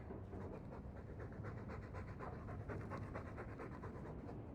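A dog in the Dragon Age 2 video game pants continuously, with fast, even breaths that are near and soft, heard alone without speech.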